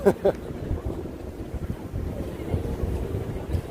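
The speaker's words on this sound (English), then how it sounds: "it's always windy" Steady low wind rumble buffeting the microphone on a street in lower Manhattan, with faint distant voices underneath.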